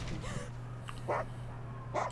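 A dog barks in a TV drama, with a few short, fairly faint yips and barks set against a steady low hum and a quiet background.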